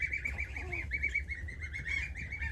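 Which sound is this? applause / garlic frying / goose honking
goose honking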